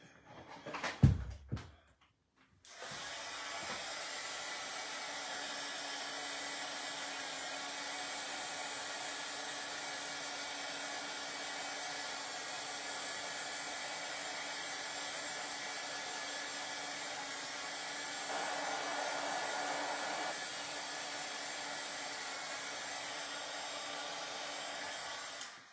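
A hair dryer blows steadily on a decoupage transfer, switching on after a brief clatter and then running as a loud, even whoosh that lifts slightly for a couple of seconds near the end, with no talk.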